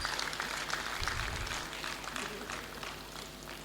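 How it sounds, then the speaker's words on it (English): Applause from a students' union crowd at a vice-chancellor's meeting fills the space, steady and moderately distant, with a murmur of voices mixed in underneath. "If you are clapping, do it like you mean it."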